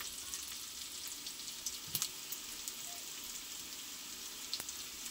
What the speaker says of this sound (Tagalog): Pag nagisa na po yung bawang, ayan, ihalo natin yung sibuyas